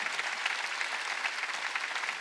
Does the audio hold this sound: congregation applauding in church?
yes